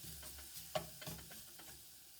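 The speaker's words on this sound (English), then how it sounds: "So we'll give this a little stir." A turmeric and coconut milk drink stirred in a pan on the stove: a few soft, close utensil scrapes and taps over a faint, quiet simmer.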